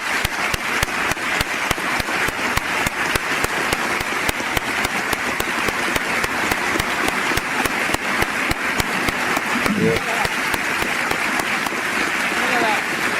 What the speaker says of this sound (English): As the video was played, everybody was clapping.